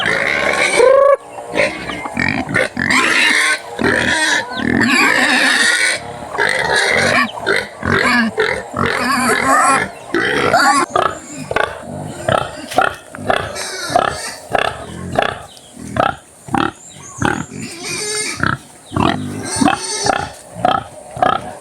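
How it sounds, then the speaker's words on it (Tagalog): A hungry pig grunts repeatedly in short, irregular bursts, close by and loud, with some people talking intermittently around it. "Nagutom na siguro yung baboy."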